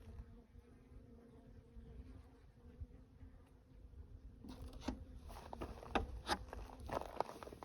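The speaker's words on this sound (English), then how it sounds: "So a wasp, there's another wasp." Wasps buzz in a low, steady hum around a swarmed beehive in August, faint and close. Sharper scraping and tapping sounds join in the second half.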